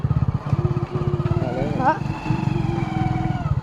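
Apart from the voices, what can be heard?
motorcycle riding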